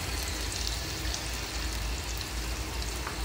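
Curry leaves, garlic and chilli frying in a pan, a steady close hiss and crackle of hot oil with no talk.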